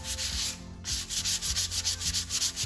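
Light, steady sanding of a wooden vintage coffee table with high-grit sandpaper, a close, continuous rhythmic rubbing with repeated back-and-forth strokes, no voices.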